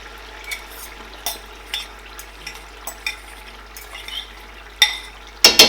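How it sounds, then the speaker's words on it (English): Egg is added to a tomato sauce and stirred in a pan, heard as a soft, low sizzle under a series of distinct scrapes and taps of a spoon against the pan, ending in louder clatter. "I am going to add my egg in the tomato."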